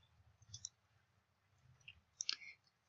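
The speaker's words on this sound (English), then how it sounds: "So just double click, and then here" A computer mouse clicks softly and close by, a quick double click followed a moment later by another crisp pair of clicks in an otherwise quiet room.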